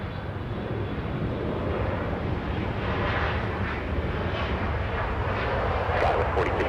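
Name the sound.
Embraer E175 airliner at Los Angeles airport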